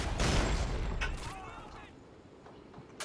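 A gunshot at a bottle in Call of Duty Ghosts, one sharp crack at the start with a second fainter report, then mechanical creaks and a brief click near the end, moderately quiet.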